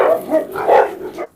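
Kangal and Cane Corso dogs bark close and loud, with several rough, overlapping barks and yips in quick succession, then stop abruptly.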